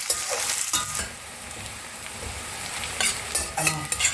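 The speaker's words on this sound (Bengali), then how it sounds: "পেঁয়াজটা ভালো করে ভাজবো" Chopped onions sizzle in hot oil as a utensil scrapes and stirs the pan in several close bursts, and the steady frying hiss continues between the strokes.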